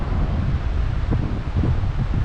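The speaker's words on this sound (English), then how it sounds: "it is still a bit windy here" Strong wind buffeting the microphone, a constant low roar with gusty rumbles and no voices.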